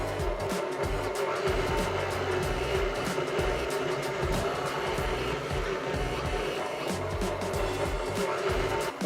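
A stand mixer turns at low speed, working butter into flour for a sweet tart pastry, giving a steady, dense motor whir with a churning rumble that holds even and continuous throughout, loud and close.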